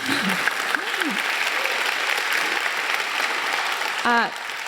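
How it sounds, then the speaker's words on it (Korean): A lecture-hall audience claps together in a dense, steady burst, with a few voices faintly audible over the applause near the end. "박수 한 번만 쳐주시겠어요?"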